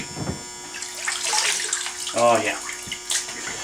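Tap water splashes and runs over disassembled Glock pistol parts in a sink, an uneven close rinse with a brief voiced exclamation partway through.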